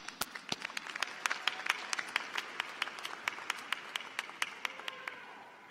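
Scattered, faint applause at a law school graduation ceremony, with distinct individual claps popping out irregularly from a small, distant audience.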